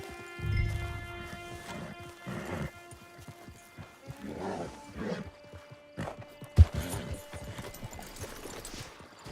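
Horse hooves clip-clop in a GTA V Online game scene, steady hoofbeats under a bed of ambient game sound and music, with a brief louder thump partway through.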